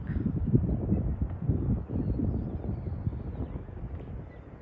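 Steady low rumbling wind buffeting the microphone in a park, continuous and fairly loud throughout with no voices.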